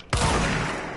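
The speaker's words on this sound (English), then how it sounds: "Oh, it's like a shotgun." A single loud, close shotgun blast in the video game Control, a sharp burst after a brief quiet moment and then a rumbling decay.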